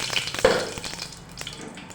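Dried red chilies dropped into hot oil, giving a sudden loud burst of sizzling and crackling that then settles into a softer steady hiss with a few small pops, close and without talk.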